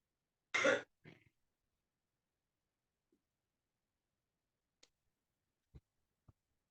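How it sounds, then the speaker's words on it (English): A single harsh residual cough rings out close by, followed by a few faint clicks in otherwise near-silent surroundings. "No, just have a residual cough."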